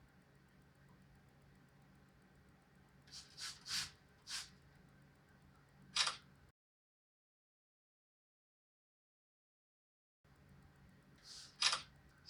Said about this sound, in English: I'm going to start taking pictures.